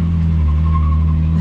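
A Nissan S14 Kouki drift car fitted with an angle kit and roll correction kit holds a loud, steady engine drone during a one-hand U-turn, a constant low hum with no break.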